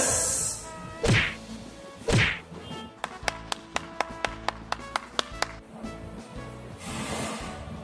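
A class claps the rhythmic Tepuk SY cheer in a Santo Yosef school lesson, with two loud group claps followed by a quick run of about ten sharp, evenly spaced claps, then a murmur of the room.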